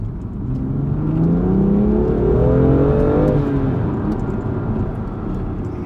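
A BMW M2 Competition with its S55 engine and carbon intake accelerates hard up a slip road, the note rising loudly and steadily with climbing revs before easing slightly, no voices over it.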